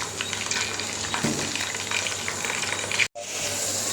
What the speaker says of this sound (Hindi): तो इसी ऑयल में हम अभी जो है वो आलू भी फ्राई कर लेंगे।